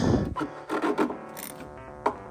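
An oil filter on a Jeep Gladiator EcoDiesel is hand-tightened until it bottoms out, giving close, intermittent rubbing and scraping bursts with brief pauses between turns and a final short knock.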